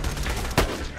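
A single close, loud gunshot in the video game Borderlands, one sharp burst standing out above a busy background of game noise and music.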